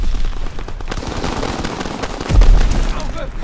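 Type 100 submachine gun in Call of Duty WW2 fires rapid bursts amid a dense battlefield din, with a heavier low thump near the end and shouted voices in the mix.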